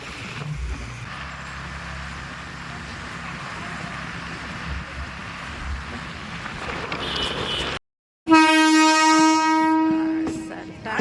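Train horn blaring loudly nearby after a stretch of rumbling rail and traffic noise, a sustained harmonic blast following a brief dropout, with no voices.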